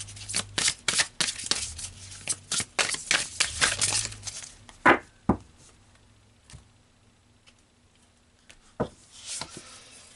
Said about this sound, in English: So let's pull one final card here.